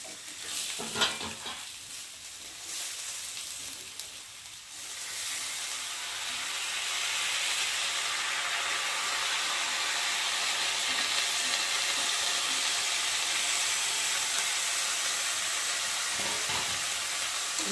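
Rice, potatoes and spices stirred together in a pot for egg pulao, with a few scraping strokes at the start, then a steady, close sizzling hiss that continues without speech.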